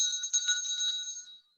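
A small altar bell gives one bright, ringing strike. Its clear metallic tone hangs for about a second and then fades to silence, with no voices.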